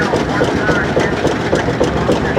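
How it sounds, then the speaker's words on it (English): A squeaky steam traction engine runs at a tractor show, a loud steady chugging with rhythmic squeals and clanks close by, a voice speaking over it. "That's the squeakiest train I've ever heard."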